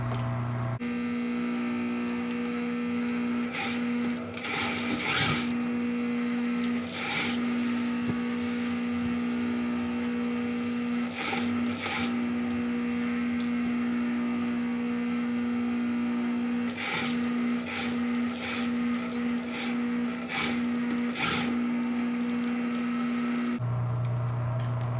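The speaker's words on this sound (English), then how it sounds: "I'm going to sew at a 1/2 inch seam allowance all the way through to 1/4 inch after my notch ends" Sewing machine running a long continuous seam on the front of a pair of pants, a steady motor hum with fabric rustles and handling noises scattered throughout, no talking.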